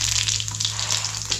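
Cumin seeds sizzling in hot oil in a kadhai: a steady, close, loud crackling hiss with tiny popping bursts, continuous throughout over a low background hum.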